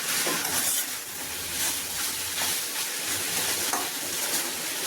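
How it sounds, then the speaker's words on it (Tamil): Goat head meat sautéing in a pan for a curry, a steady close sizzle and frying crackle with periodic stirring scrapes throughout, no voices. "இந்த கறி போட்டதுக்கப்புறம் 2 நிமிஷம் 3 நிமிஷம் நல்லா வதக்கலாம்"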